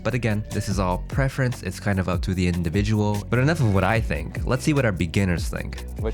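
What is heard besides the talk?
None of the usual background noises is heard.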